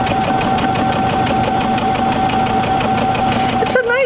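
A sewing machine stitches quilt fabric for an intermediate sampler quilt, giving a close, steady, fast mechanical whir and rhythmic needle chatter that stops abruptly near the end.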